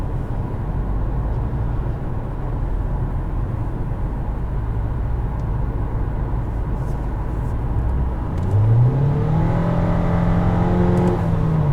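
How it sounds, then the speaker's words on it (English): A 2015 Nissan Altima SL's four-cylinder engine drones steadily from inside the cabin, then revs up near the end with a rising whine as the car accelerates. "For just being a 4-cylinder, it has a lot of power."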